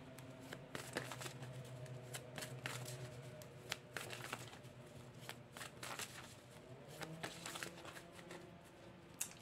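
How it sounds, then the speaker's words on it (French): Tarot cards are gathered together and squared into a neat stack, making soft, faint shuffling and riffling flutters in short bursts close by, over a quiet background hum. "je rassemble un peu mes cartes, je les centre"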